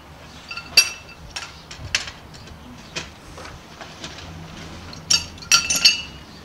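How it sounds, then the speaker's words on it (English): Metal pipe wrenches clink and clank against the widened screw-in joint of a hand auger while it is loosened, giving scattered sharp metallic knocks near the mic with quiet gaps between them. "When you want to disassemble the hand auger, you use pipe wrenches."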